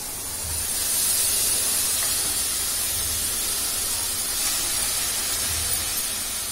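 Chopped red chilli vegetable goes into a hot kadhai with onions, giving off a steady, dense hissing sizzle that holds evenly loud and close throughout, with no talking.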